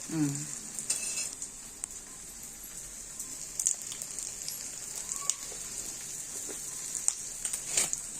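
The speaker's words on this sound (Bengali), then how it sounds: "তেলে শুকনো লঙ্কা দেওয়া হয়েছে।" Dried red chillies and panch phoron crackle in hot oil, a steady bright sizzle with scattered pops and a few clinks of a utensil, close and continuous.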